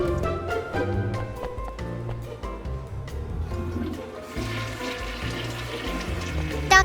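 Cartoon toilet flush and running tap water in a PBS Kids bathroom game, a rushing watery swirl over light background music, with no talking.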